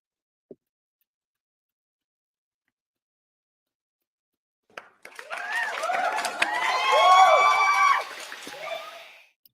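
After a long silence broken by one tiny click, a soundboard cheering effect kicks in: a crowd whooping and yelling with applause that swells, peaks, then tapers toward the end.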